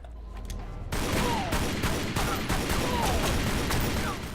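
Gunfire in the Tomb Raider Legend video game: dense, sustained bursts of rapid shots that start abruptly about a second in and continue loud and unbroken to the end.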